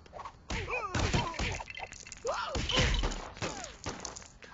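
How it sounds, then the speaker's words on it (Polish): In the LEGO Batman video game, a cannon destroys a truck with a rapid run of thuds, crashes and shattering, clattering brick breaks. The impacts come in uneven bursts over a few seconds. "Powstała właśnie armatka, za pomocą której zniszczymy ciężarówkę"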